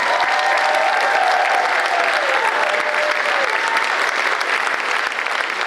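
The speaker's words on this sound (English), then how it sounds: "A nice round of applause for all of our newest inductees." Loud, sustained applause from a ceremony audience welcoming new academic honor society inductees at a high school, a dense steady wash of clapping, with faint voices in the crowd.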